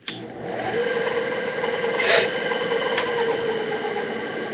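A bandsaw in a stained glass workshop runs with a steady buzzing hum close by, with a couple of brief brighter rasps partway through and no speech.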